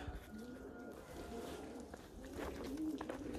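Pigeons coo softly nearby in February, low throaty warbles repeating against faint background rustling and distant noise.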